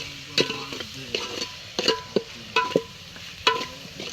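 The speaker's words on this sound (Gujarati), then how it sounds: "કમ્પ્લીટ બધું હલાઈ મિક્સ કરી દઈએ અંદર" Sev and onion curry cooks in a pan with a soft steady sizzle while a spoon stirs it, giving several distinct scraping clinks at irregular intervals, close and alone.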